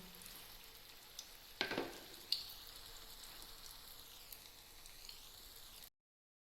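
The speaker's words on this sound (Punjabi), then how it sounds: "ਮੈਂ ਇੱਕ ਵਾਰ 'ਚ ਚਾਰ ਟਿੱਕੀਆਂ ਫਰਾਈ ਕਰਾਂਗੀ" Aloo tikki potato patties frying in a pan, a soft steady sizzle with a louder crackling burst early on, faint and close throughout.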